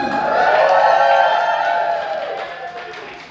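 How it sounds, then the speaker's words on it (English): An audience at a stand-up comedy set breaks into loud cheering and clapping that swells early, then gradually fades over a few seconds. "we actually get the same amount of applause for transitioning as marriage"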